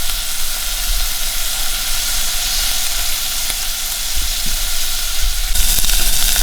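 Chopped onions sizzle and fry steadily in a hot pan, a loud continuous crackling hiss that swells slightly near the end, with no talking.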